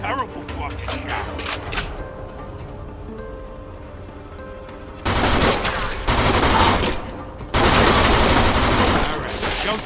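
Shootout gunfire in the Mafia 2 video game, with distant scattered shots and voices early on, then loud dense automatic bursts that take over the second half.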